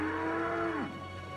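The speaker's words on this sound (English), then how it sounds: "They're just cows. They're not higher or lower. They're cattle of a different kind." A single drawn-out moo comes from cattle bred to resemble aurochs, a low lowing call that slides down and fades over a quiet outdoor background.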